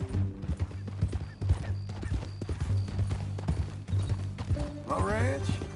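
Horse hooves clip-clop steadily through a Western-style video game scene, with a horse whinnying near the end, layered under a low musical drone and bits of character dialogue.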